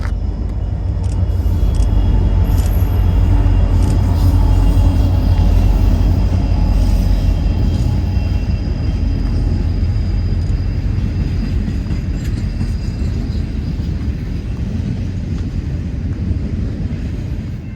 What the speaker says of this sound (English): CSX 4557 leads this eastbound domestic stacker, with the CSX